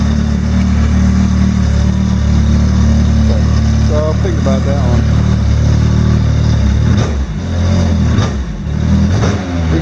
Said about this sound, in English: They say the turbo kit's exhaust is quieter than the stock, so this is relatively loud.